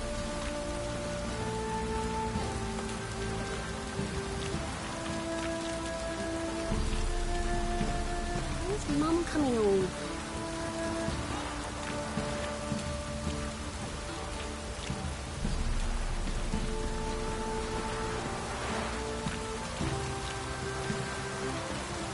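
Heavy rain pours down steadily in The Witcher 3, a dense continuous hiss of rainfall with a couple of swelling gusts, while voices talk over it at moments.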